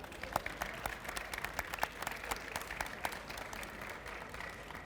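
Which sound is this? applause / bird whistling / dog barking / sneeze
applause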